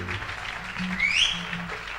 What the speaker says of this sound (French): Nous applaudissons très fort notre Dieu.